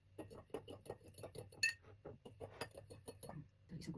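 A spoon clinks against a glass as it stirs Easter egg colouring, making a quick run of small taps and chinks with one brighter ring, while a person talks quietly.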